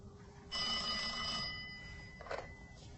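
A telephone bell rings once in a short, bright, buzzy trill of about a second, followed by a faint second chirp, clear and alone against a quiet room.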